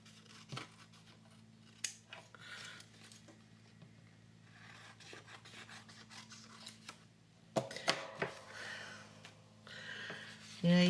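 Scissors snip and trim a paper tag for a handmade journal, a few close, crisp cuts and rustles spread across a quiet room, with soft talking between them.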